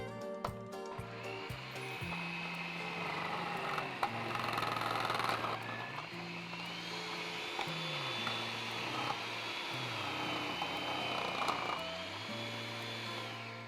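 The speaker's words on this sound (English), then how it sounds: "let's get our food processor blade on. It's attached with a grater blade" Food processor fitted with a grater blade shredding vegetables, a steady close motor whine with shifting pitch and rhythmic grinding pulses underneath, running continuously throughout.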